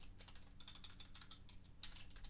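Keys on a computer keyboard clatter in a quick irregular run of light clicks during software editing, close and fairly faint, with no talk over them.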